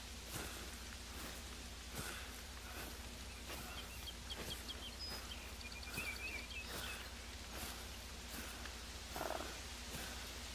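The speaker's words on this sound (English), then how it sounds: "it's the raccoons. Like a little purring noise." A raccoon purrs in the hunting game theHunter: Call of the Wild, a soft, continuous low rumble. It blends into a steady hiss of rain-like ambience with occasional faint bird calls.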